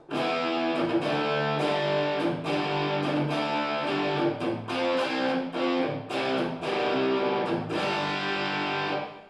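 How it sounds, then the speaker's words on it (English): Heavily distorted electric guitar on the bridge humbucker playing chords and riffs continuously, loud and saturated, with rhythmic strummed attacks throughout. "Even on 10, the actual distortion sound, if I pick lightly, it's still a dynamic distortion"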